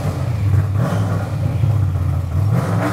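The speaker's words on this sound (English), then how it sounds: "let's get inside and go for a rev" An old car's engine revving from inside the cabin, a loud low rumble that swells and eases in waves with rattly clatter throughout, no talking.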